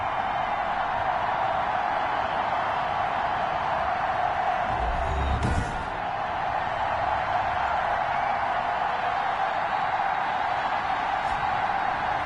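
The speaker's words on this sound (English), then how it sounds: "this crowd is ready to go" A stadium crowd in the Madden 21 football video game, at a Rams vs Washington matchup, gives off a steady, dense roar that holds at an even level throughout, with no voices standing out.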